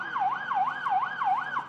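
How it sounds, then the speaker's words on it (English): An emergency vehicle siren wails inside a secured security perimeter, repeating a rapid rising-and-falling yelp about four times in under two seconds, clear and moderately loud at a middle distance, with no talking. "that's a siren that was within the perimeter"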